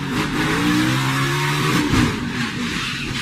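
A NASCAR Cup Series stock car engine revs hard and steady onboard during a crash, its pitch climbing and surging as the throttle is pushed, loud and close with no talking.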